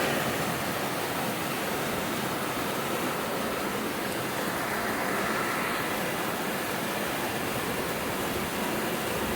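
Steady rain falls outdoors as a dense, continuous broadband hiss, loud and unbroken throughout, with no voices.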